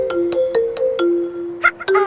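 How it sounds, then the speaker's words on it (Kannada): A mobile phone ringtone for an incoming call chimes in a quick run of bright repeated tones, loud and close, ending with a short musical flourish. "ಪಪ್ಪಿ, ನೋಡು ಅವನೇ ಫೋನ್ ಮಾಡ್ದ"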